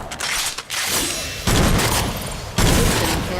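Heavy gunfire from Agents of Mayhem comes in dense, loud bursts, with two sharp onsets of sustained volleys and booming impacts stacked over one another, close and continuous.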